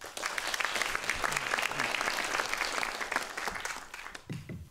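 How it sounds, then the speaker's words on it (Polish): An audience at a lecture on space colonization breaks into sustained, dense clapping that stays loud throughout and fades only at the very end. "Wielkie brawa."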